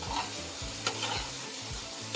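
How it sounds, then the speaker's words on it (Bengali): Potatoes and sugar are stirred in a pan for a vegetarian dum aloo. A spatula scrapes repeatedly and rhythmically over a low sizzle, with a couple of sharper knocks. No one speaks. "ব্যাস এবার এটাকে নাড়াচাড়া করে নেবো।"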